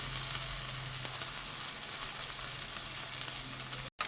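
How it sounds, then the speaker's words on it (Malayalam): Tomatoes frying in hot oil in a clay curry pot for a white pomfret curry, a steady soft sizzle holding evenly at low level, then a brief dropout near the end. "ഇനി നമുക്ക് തക്കാളി നന്നായി വെന്ത് വരണം"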